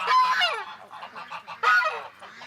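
Muscovy ducks emerging outdoors give a run of loud, close honking and raspy calls, bursts overlapping in quick succession with a brief lull before another strong outburst.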